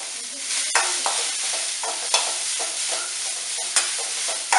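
Onions sauté in a hot kadai, a steady bright sizzle broken by repeated sharp clinks and scrapes of a spoon stirring, close and clear with no talk.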